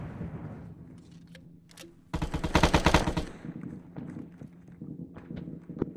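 Automatic gunfire in Arma 3, a dense burst of rapid shots for about a second, surrounded by scattered distant single cracks and low battlefield rumble.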